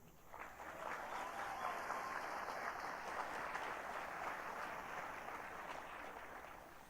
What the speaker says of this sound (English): Please give a big round of applause for our administrative team,